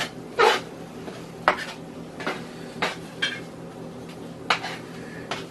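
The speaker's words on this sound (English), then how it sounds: "We're doing the egg scrambled here." Metal flipper scraping and tapping in a thick frying pan while scrambling eggs, several separate clinks and scrapes spaced irregularly over a quiet background hum.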